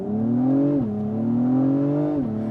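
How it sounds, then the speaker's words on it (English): An Acura TLX engine holds a steady, moderate rev under launch control, dips briefly, climbs again and drops once more, close by with no talking. "When you put in a launch control, it revs low."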